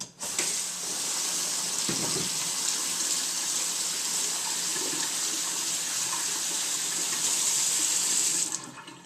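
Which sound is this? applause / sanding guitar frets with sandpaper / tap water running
tap water running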